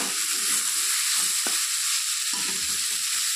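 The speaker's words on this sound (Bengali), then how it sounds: "তো ঢাকনাটা খুলে দিয়েছি, নেড়ে চেড়ে দিচ্ছি।" Cooked leafy greens sizzle softly in an uncovered pan over low gas heat, a steady close hiss with a few faint scrapes of stirring and one brief clink.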